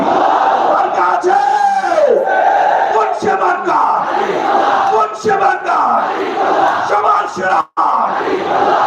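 A large crowd at a Jamaat-e-Islami election rally in Tangail roars back in unison to a takbir call, loud massed chanting in repeated surges with a leading voice, briefly dropping out near the end.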